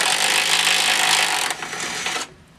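A power drill works on removing the gas tank from a C30 dually truck, a loud, harsh, continuous whir that shifts pitch partway through and then cuts off abruptly near the end.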